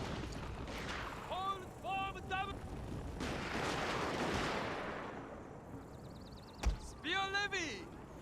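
Troops firing volleys on a battlefield in Total War: Shogun 2, Fall of the Samurai, with rolling booms and crackling gunfire at a moderate distance, mixed with other battle sounds and a voice talking over parts of it.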